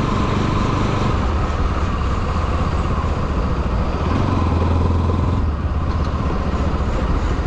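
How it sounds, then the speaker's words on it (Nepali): Motorcycle cruising along the BP Highway between Sindhuli and Khurkot in Nepal, its engine a steady, loud drone under heavy wind rush that stays constant throughout, with no talking. "त्यही भएर अहिले म बाइकमा छु।"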